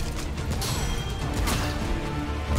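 Glass shatters in the dark fantasy shooter Remnant: From the Ashes, a dense crashing burst with scattered tinkling over a steady rumbling game backdrop, repeating in clustered impacts.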